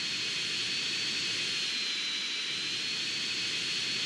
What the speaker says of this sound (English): Who's flying a plane?